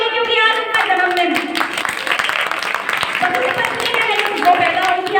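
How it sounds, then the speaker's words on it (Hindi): An audience claps and cheers for Hadi Rani at a Republic Day speech event, a dense, sustained applause that continues throughout the whole stretch, with voices mixed into the crowd noise. "उनके लिए ढेर सारी तालियां"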